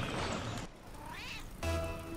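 A voice imitates a cat, giving a drawn-out rising and falling meow in the middle, fairly clear over low game background noise.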